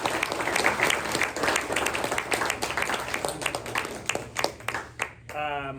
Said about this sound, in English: Let's give Elliot a round of applause.